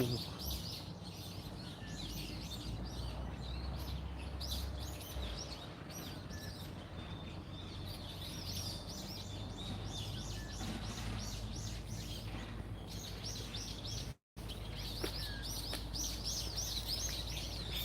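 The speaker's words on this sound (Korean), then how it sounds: "이게 들리는 새소리 있죠, 새소리." Birds chirp and twitter steadily in a forest research institute's grounds, with scattered calls over a low background hum and occasional voices.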